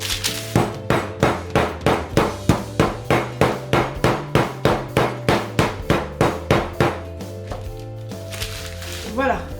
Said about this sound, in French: avec mon rouleau à pâtisserie, je vais l'aplatir. Cette étape fait un peu de bruit